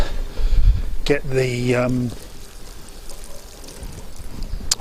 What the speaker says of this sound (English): What I'm going to do now is to put some water on that and get the